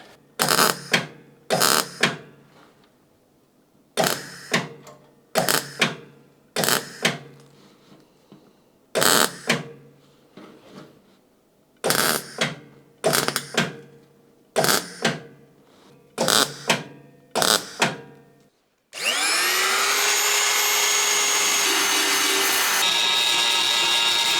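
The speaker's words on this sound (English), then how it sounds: "So I'm just gonna go ahead and weld this up now." Welding on rusty, thin car body metal of a Citroën AZU: about a dozen short, sharp crackling bursts separated by brief pauses, then a loud, steady whirring drone takes over for the last few seconds, close up and without talk.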